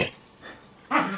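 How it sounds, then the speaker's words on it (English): A puppy gives a short yelp at the start, then a quieter whine and a sharper, louder bark near the end, all close by indoors. "Ignore the puppy."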